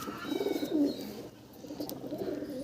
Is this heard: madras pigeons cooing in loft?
yes